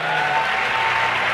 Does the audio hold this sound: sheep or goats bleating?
no